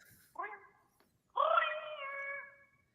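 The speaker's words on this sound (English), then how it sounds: "It's my alarm." A phone alarm reminder sounds during a Zoom keynote watch party: a short rising electronic tone, a pause, then a longer sustained harmonic tone lasting about a second, moderately loud and with no talk over it.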